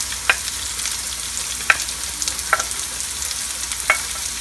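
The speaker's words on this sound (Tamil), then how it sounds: "ஸோ ஆனியன் வதங்கட்டும்" Chopped onions sauté with garlic in a hot pan, giving a steady, close hiss. A few sharp clicks of a utensil against the pan stand out at spaced intervals.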